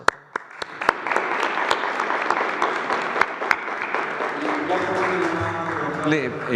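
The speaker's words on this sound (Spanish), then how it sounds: "Un aplauso." A press conference audience claps, starting with a few sharp separate claps that build into brief, full applause, then fades as a voice begins speaking over it.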